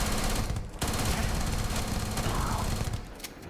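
A full-auto Allied Armaments PDW laser weapon in Starfield fires a dense, sustained burst, its rapid shots blurring into one loud roar with only a brief gap early on.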